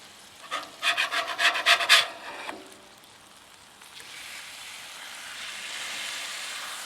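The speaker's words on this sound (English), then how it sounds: "scrape hard against the griddle, get all the crispiness from underneath up off the griddle" A spatula scrapes crispy smash burger off a Blackstone 17-inch tabletop griddle in a burst of loud, rhythmic rasping strokes. The scraping fades into a low, steady sizzle.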